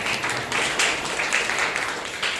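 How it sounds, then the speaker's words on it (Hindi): Church congregation clapping in welcome at a Sunday morning service, a steady broadband wash of many hands lasting throughout, moderately loud and fairly close, with no one speaking over it. "जोरदार ताली बजा सकते हैं।"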